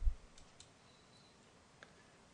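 A few faint, quiet clicks of a computer mouse, one sharper click at the start and lighter ticks following, with no talking.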